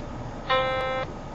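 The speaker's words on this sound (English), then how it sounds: "When talking, press and hold the space key and wait for the beep." A single clean electronic beep lasting about half a second, the voice-input prompt of TeleNav GPS Navigator on a BlackBerry Tour, loud and alone against faint background hiss.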